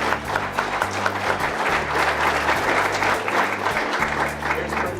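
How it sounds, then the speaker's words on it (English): A university showcase audience gives a loud, sustained round of applause, many hands clapping at once in a thick, continuous wash for several seconds, with no talking over it. "So give her a round of applause."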